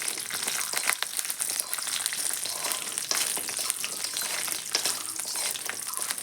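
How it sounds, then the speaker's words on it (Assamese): Jujubes sizzle and crackle as they fry in a pan for a pickle, giving a dense, steady hiss with scattered sharp pops and occasional stirring scrapes, with no talking. "বগৰীখিনি অকণমান টাইম লৰাই থাকিম ভাজি ল'ম"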